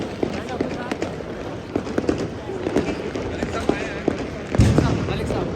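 Distant New Year's Eve fireworks in Italy keep popping and crackling in scattered, irregular bursts, with one heavier boom near the end, under steady outdoor crowd noise and chatter.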